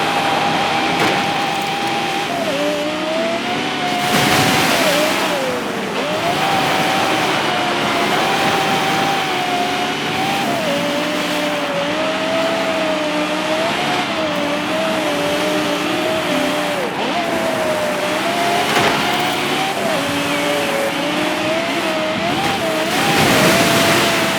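A Toyota Land Cruiser AT37 in Forza Horizon 5 holds a steady, droning engine note throughout, pitch wavering slightly as it drives in rain, with brief gear-shift dips and no talk.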